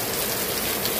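Torrential rain at a poultry farm in Madhevadgaon roars as a loud, even wash of noise, dense and unbroken, with no voices.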